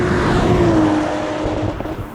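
A manual BMW Z4 accelerates hard, its engine note loud and close with a steady rising whine that shifts pitch partway through, no voices over it.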